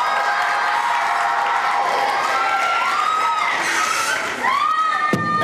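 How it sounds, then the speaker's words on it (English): Children and adults cheer, whoop and clap in a middle school gathering, a loud continuous crowd roar with shouting voices over applause. "Everybody give her a round of applause."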